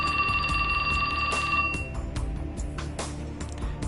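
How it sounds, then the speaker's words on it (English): A phone rings with a bright, trilling electronic tone for under two seconds, then breaks off into busy, clattering background noise. "His phone rang."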